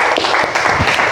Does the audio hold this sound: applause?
yes